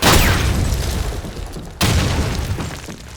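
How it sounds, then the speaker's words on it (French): Two heavy booming grenade blasts in the Call of Duty 2 video game, the first at the very start and a second sharp blast partway through, each followed by a rumbling decay. "Grenade ennemie."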